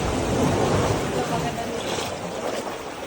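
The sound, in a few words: strong ocean waves in a cave in the Philippines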